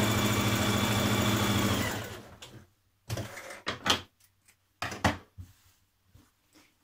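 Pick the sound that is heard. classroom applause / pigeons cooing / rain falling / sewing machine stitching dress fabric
sewing machine stitching dress fabric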